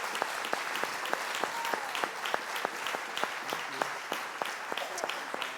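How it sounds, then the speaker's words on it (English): Applause from the audience at a panel event on abolition theology, steady clapping with a few sharp, distinct nearby claps standing out over the crowd, with faint voices underneath. "So we'll give another hand clap for our conversation partners and for Darnell Moore."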